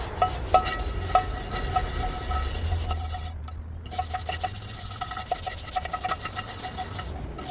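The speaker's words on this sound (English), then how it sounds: "we want to use a nice little scrub brush and scrub all this out." A scrub brush works algae out of a bird bath in a steady, close, rasping back-and-forth, briefly pausing once before the rough scrubbing resumes.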